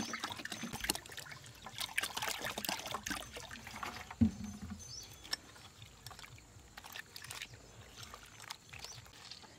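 Ground wheat grains washed in water by hand, with continuous sloshing, trickling and splashing close by, one sharper knock midway, and no speech.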